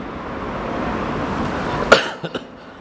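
A person coughs once sharply, followed by a couple of smaller coughs and throat-clearing sounds, against a low room hum and quiet background.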